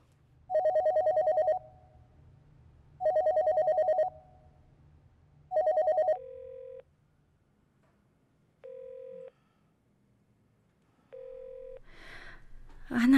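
A telephone ringback tone from a call being placed: three long, loud, evenly spaced double-rings, then three shorter, thinner tones, with faint room noise and a brief rustle at the end.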